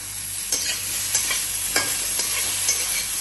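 Ginger paste fries in oil while being stirred in a pan for a potato and pointed gourd gravy, with a steady sizzle and a series of sharp scraping spatula strokes about every half second.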